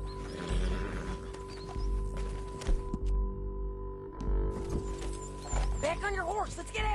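Horse hooves pounding in a video game, a steady clip-clop of galloping under a low rumble, with a horse whinnying near the end and voices talking over it.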